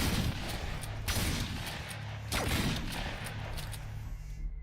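Gunfire in a video game carries across a field as repeated far-off shotgun blasts at long range, three or four booming reports over several seconds, with a continuous rumble between them.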